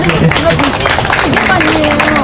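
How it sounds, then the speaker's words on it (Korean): Crowd clapping at an outdoor political rally in a park welcoming the next speaker, a dense steady patter of hands mixed with crowd hubbub and voices, loud and close. "박수로 맞아주십시오"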